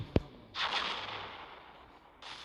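A single sharp gunshot in a video game, a brief loud crack followed by softer game noise and a faint rush of sound.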